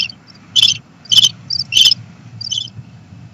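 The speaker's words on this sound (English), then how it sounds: "It sounds like you have a cricket problem in your house." Crickets chirping indoors in a house, loud and close, in short repeated bursts of trills roughly every half second over a low background hum.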